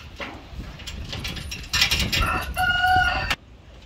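Chickens cluck and a rooster crows nearby in a chicken coop, with a burst of loud crowing toward the end over some light rustling.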